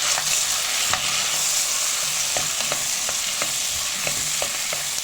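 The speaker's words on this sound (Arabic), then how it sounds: "الجزر، البصل. نحطهم" Chopped carrots and onions tipped into a pot for lentil soup, set against a steady sizzle with scattered clicks and stirring knocks throughout, close and even.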